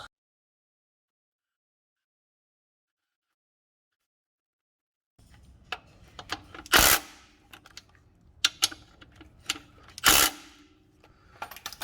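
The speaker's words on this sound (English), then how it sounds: "we're gonna go ahead and tighten down our bolts" Ratchet and wrench tightening front suspension bolts on a Chevy S10 during a suspension replacement, silence at first, then a series of close clicking ratchet strokes and metallic scrapes with a few louder bursts.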